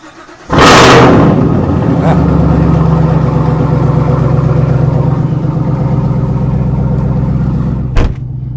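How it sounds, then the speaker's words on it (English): A Chevrolet Camaro engine cold-starts on a chilly 40-degree day, catching with a loud bark and then settling into a steady, rumbling idle close by, with a brief sharper blip near the end. "But let's hop in the Camaro, because that's the reason why we're looking for another car, because I can't drive this thing. So let's get a cold start."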